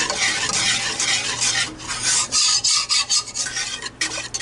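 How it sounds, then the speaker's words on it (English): A spoon stirs a thick tie-dye play-doh mixture in a pot, making a close, continuous gritty scraping that rises and falls in uneven strokes, with no voices. "it says to continuously stir it"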